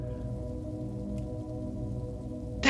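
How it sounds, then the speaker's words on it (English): Steady rain falls in the video game Yume Nikki, a continuous soft patter over a low hum that holds evenly throughout, with a brief sharper sound at the very end and no voices. "And it's raining, literally,"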